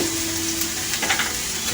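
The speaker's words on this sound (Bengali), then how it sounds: "পেঁয়াজটি একটু লাল করে সামান্য লাল হবে ভাজাটা" Onions fry in oil for a boal fish curry, making a steady, close, crackling sizzle that swells briefly in the middle. No one talks.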